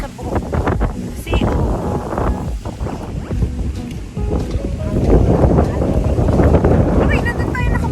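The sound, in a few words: strong wind blowing into the microphone outdoors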